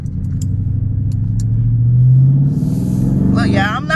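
An SRT Mopar car rolls away in second gear without braking, its close, loud engine rumble rising steadily in pitch, then a brief burst of broadband noise near the end.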